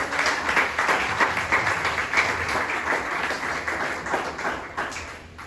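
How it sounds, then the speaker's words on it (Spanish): Congregation applauding the Lord during a church service, a steady wash of many hands clapping in a reverberant hall, holding strong before tapering at the end. "Ese fuerte aplauso al Señor."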